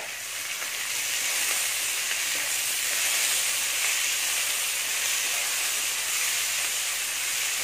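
Onions and chopped tomatoes sizzle steadily in hot oil for a coconut crab gravy, a dense continuous frying hiss that stays loud and even throughout with no talking.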